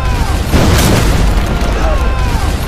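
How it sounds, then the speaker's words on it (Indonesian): A bomb explodes in front of FBI agents in a thriller film, a heavy booming blast with rumbling low end and a spreading roar that stays loud and dense for the whole stretch. "bom pun meledak di depan anggota FBI"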